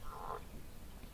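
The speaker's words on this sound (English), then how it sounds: "Frogs sound like that? I thought a tractor exploded." Frogs croak at night, a short buzzy call in the first moments that quickly fades into a low, steady rumble of background noise.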